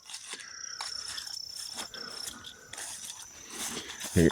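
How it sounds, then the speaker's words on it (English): An unlocked metal barricade gate at an abandoned state park campground is swung open, making close, rhythmic metallic creaks and ratcheting squeaks that run for several seconds, with no talking. "this barricade is unlocked and I can swivel it open"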